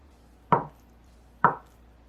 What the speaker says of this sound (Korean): 두부는 큐브 모양으로 써시고요.